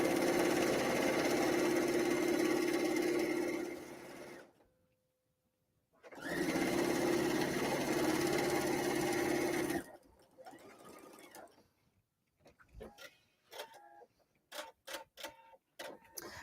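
A sewing machine stitching an insulated tea cozy runs in two steady whirring bursts separated by a brief pause, followed by quieter clicks and taps as the work is handled.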